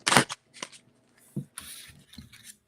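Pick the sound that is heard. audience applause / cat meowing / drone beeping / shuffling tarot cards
shuffling tarot cards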